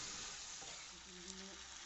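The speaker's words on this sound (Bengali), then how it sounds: "ভাজা চিকেনগুলো দেওয়ার পর ভালো করে নাড়িয়ে নিলাম।" Fried chicken pieces stirred in a kadai with kasuri methi for chili chicken make a faint, low sizzle with a few soft stirring scrapes.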